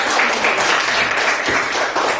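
A classroom of students clapping hands together after a roll call, a dense, steady patter of many small hands at close range throughout.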